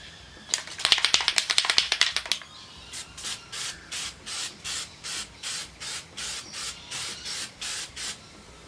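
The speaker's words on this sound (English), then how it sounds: "So shake it up until you see those little dimples in the bottom of the can, and just do nice light coats" Spray paint can of crinkle finish rattled in a quick burst of shakes, then a series of about fourteen short rhythmic spray hisses in light coats on Jeep wheels.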